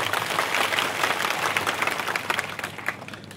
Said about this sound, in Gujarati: એકવાર જોરદાર તાળીઓ પાડીએ